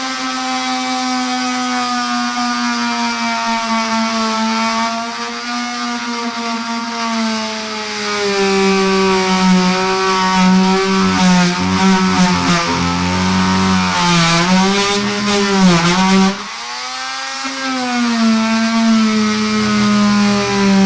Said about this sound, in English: I'm going to be using an oscillating tool with a diamond grit blade.